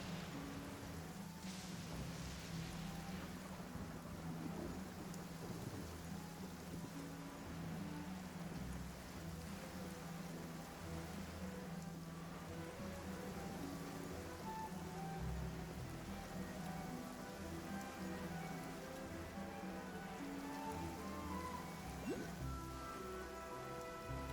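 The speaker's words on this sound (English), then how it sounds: "it does actually rain in the desert on occasion. And when it does, it's always a lot heavier than this." Rain falling in the desert in Genshin Impact, a steady, faint hiss of rainfall running unbroken throughout, with a low rumble beneath and light game ambience.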